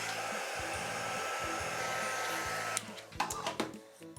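An embossing heat gun blows a steady, soft whooshing drone while heating vellum for a scrapbook photo mat, then cuts off near the end, leaving a few faint clicks and handling sounds.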